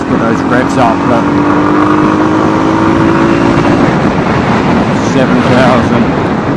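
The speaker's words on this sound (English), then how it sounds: "Let's put those revs up, look" A Honda CB250RS motorcycle engine revs on a road ride, a steady loud engine drone with rising tones and heavy wind buffeting, while someone talks over it.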